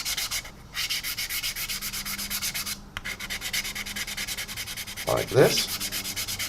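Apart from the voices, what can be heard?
medium-grade sanding stick sanding putty across model windows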